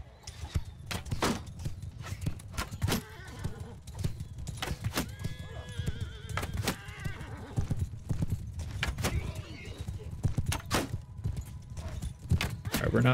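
Horses gallop into battle in Bannerlord, a dense clip-clop of hooves with occasional neighs and whinnies, close and busy throughout, while someone talks over it.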